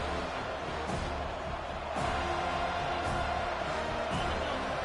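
Home crowd at a college football rivalry game roars in a steady, distant wash of cheering and noise as the defense tries to get off the field on third down, with a few louder swells.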